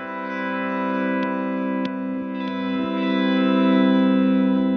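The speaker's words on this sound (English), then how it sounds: "So I've got this delay effect and it's running in mono and coming into the plugin in mono." An electric guitar played through the Neural DSP Archetype Cory Wong plugin holds a sustained chord with a mono delay effect, ringing tones smearing and repeating, with a few faint pick clicks and no talking.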